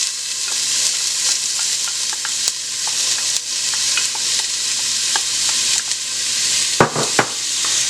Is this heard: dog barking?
no